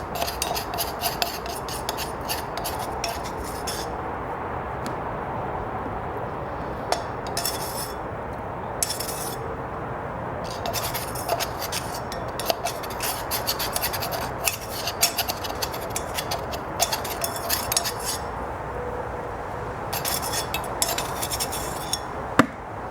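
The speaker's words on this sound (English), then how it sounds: "So start off, loosen it up with a screwdriver, and then I'll finish up by wiping it with a rag." Screwdriver scraping and rasping at grimy metal on a Fordson Dexta tractor's fuel filter housing, a steady close gritty scratching with scattered small clinks and knocks throughout, no talking.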